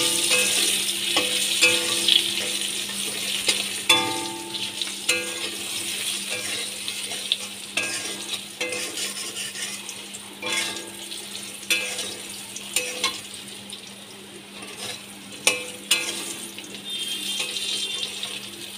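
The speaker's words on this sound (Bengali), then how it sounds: "আলু ভাজা হয়ে গেছে" Potatoes fry in oil in a pan with a continuous sizzle and crackle, plus occasional stirring clatter and a steady background hum throughout.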